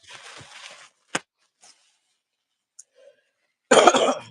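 A short burst of coughing, then a single sharp cough and small scattered noises, ending with a louder rough cough or throat clearing.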